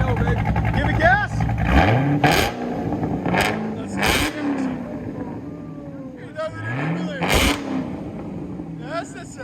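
Hennessey-tuned 800 hp Chevy Corvette ZR-1 with a supercharged 6.2L V8 and true dual exhaust revving hard several times, loud sharp blips rising and falling with a rumbling idle between, people talking over it.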